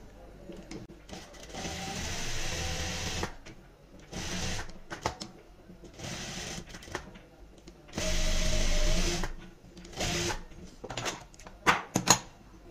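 A sewing machine stitches a fabric loop for a kurta sleeve in short bursts, faint and close, stopping and starting between pauses, with a voice talking at times.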